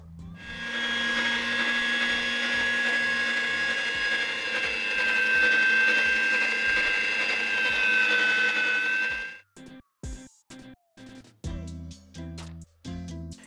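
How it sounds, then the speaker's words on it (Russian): An electric meat grinder mincing potatoes whirs steadily and loudly for several seconds, then stops and short bursts of music follow. "поэтому только мясорубка."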